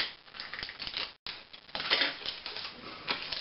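Strips of tape being pulled and pressed onto a ball give a close, crackling, crinkly run of sounds that stops for a moment and then goes on, and no one speaks.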